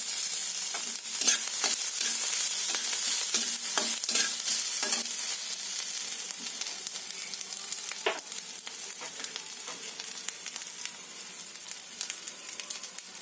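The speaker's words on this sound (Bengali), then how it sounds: "ভেজে নিয়ে এবার এর মধ্যে গ্রেট করা আদাগুলো দিয়ে দিলাম" Grated ginger sizzles in hot oil in a pan while being stirred, a bright crackling fry with repeated scraping strokes from a spatula, loud at first and easing slightly, with no talking.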